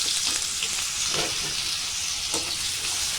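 Chunks of potato, red potato and papaya sizzle steadily in hot oil in a pan, a continuous close frying hiss with a few soft stirring scrapes, no talking.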